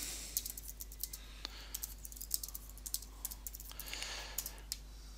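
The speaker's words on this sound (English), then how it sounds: "then I'll type something in" Keys clatter on a computer keyboard while text is typed into MODO 12.2 3D software, a quiet, steady run of close clicks with brief pauses and no speech.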